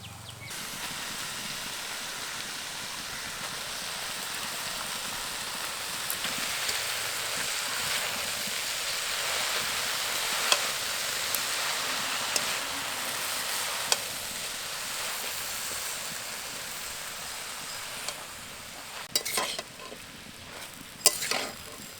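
Garden greens and vegetables stirred and fried in a pan, cooked in a rustic village style: a steady sizzling hiss with scraping stir strokes runs throughout, and a few sharper clinks come near the end.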